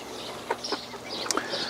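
Chickens in a small farm pen give a few short clucks and squawks, scattered and moderately close, over a quiet background.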